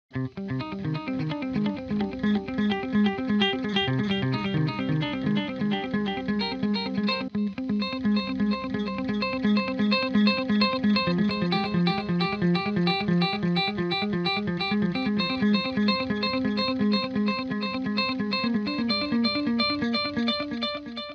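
Clean-toned electric guitar plays steady repeated quarter notes through a delay effect, echoing repeats trailing behind each one, continuous and fairly even in volume.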